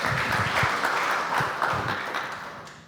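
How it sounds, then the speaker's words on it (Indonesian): An audience in a church sermon setting claps for Joshua, a full, close round of applause that stays steady and slowly tapers toward the end. "tepuk tangan buat Joshua"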